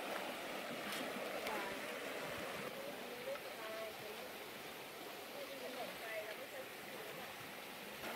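A deep, high-running river in Wang Chao National Park, Thailand, giving a steady broadband rush of flowing water, continuous and fairly distant, with no clear voices over it.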